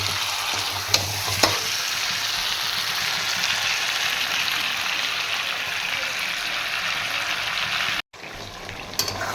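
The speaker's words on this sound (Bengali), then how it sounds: "এখানে চিকেনটা সবে কষছে, এখন ওটা হতে টাইম আছে।" Chicken stir-fried in a pan, sizzling loudly and steadily with a couple of sharp stirring clicks early on, cutting out briefly near the end before resuming.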